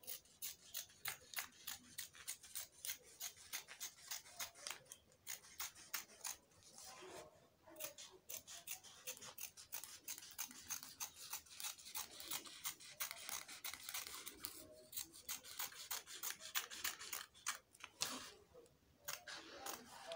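Scissors snip through fabric for a kids dress sleeve in quick, regular crisp cuts, close and fairly quiet, continuing steadily with only brief pauses.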